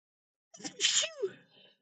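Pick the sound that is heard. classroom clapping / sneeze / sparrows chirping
sneeze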